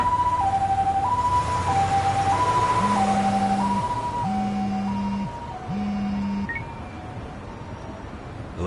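An ambulance siren in the Lost Judgment video game wails in a steady two-tone pattern that repeats, loud and close, over a low repeating tone and background hum, with no voices.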